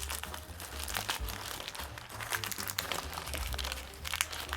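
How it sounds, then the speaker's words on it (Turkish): Close, quiet crinkling and tearing of material in short irregular bursts while a knitted decorative pumpkin is shaped by hand, with no voices. "Şu kısımda şöyle birazcık daha yırtabilirim şuraları"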